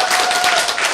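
Brief burst of dense audience clapping in a lecture hall, loud and close, lasting under a second.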